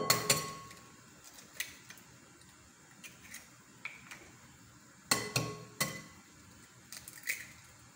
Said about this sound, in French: je vais casser les 3 œufs